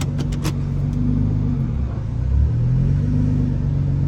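A Nissan GT-R R35 with an aftermarket exhaust idles and rumbles steadily with a low, loud engine drone, briefly swelling in a light rev midway, with a few sharp crackles near the start.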